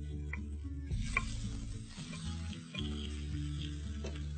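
Liver masala with ginger and garlic fries in a pan, a soft close sizzle broken by the scrape and clink of stirring, with a low steady hum underneath.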